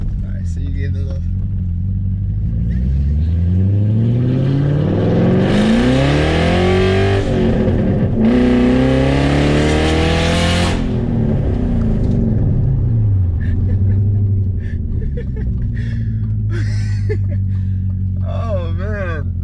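A loudly modified car engine revs hard twice in quick succession, deep rumbling roar rising and falling close by, with a person talking over parts of it.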